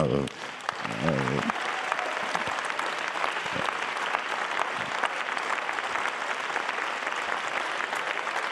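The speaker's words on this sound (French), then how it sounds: "le cabinet de Patrick Martin, applaudissez-le" Sustained audience applause at the closing session of a business leaders' conference, loud and steady throughout, with a brief voice at the start.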